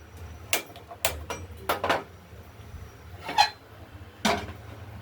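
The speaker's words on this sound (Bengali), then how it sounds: "কড়াইটাও বসিয়ে দিলাম, কড়াইটা গরম হোক।" A wok is set down on a kitchen stove, giving several sharp metallic clanks and knocks spaced irregularly, close by, over quiet room tone.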